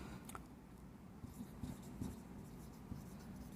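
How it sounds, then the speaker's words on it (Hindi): Chalk or pen writing by hand on a board or page during a maths lesson, a steady scratchy patter of strokes close by with no talk over it. "इसको मैं यहाँ लिख देता हूँ"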